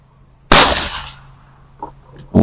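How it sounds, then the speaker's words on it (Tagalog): A PCP air rifle fires one sharp, loud shot at close range. A fainter click follows, then a second sharp report near the end. "Minsan kailangan nyo lang bigyan ng ilang putok para mag-settle yung inyong spring."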